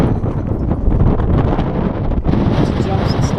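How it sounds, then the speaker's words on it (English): Strong wind gusts roar loud and steady across an open dirt-bike and quad riding area at a campsite, buffeting the microphone throughout. "You can hear the wind going crazy"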